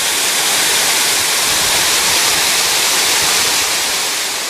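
Waterfall pouring over eroding limestone into a creek, heard from a short way downstream as a loud, steady, broadband rush with no voices.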